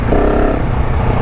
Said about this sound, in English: 690 has a little bit of a different sound. I put a Wings exhaust on it a couple weeks ago